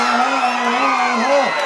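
A crowd whoops and cheers at a jallikattu bull-taming event in Thirukkanurpatti, Thanjavur, with loud, sustained shouts and one prominent rising and falling yell carrying over the mass of voices for the whole moment.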